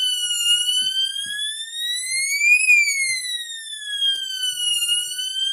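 Homemade fire alarm pull station sounding, a loud steady electronic alarm tone that sweeps up and back down in pitch, continuous and alone with no voices.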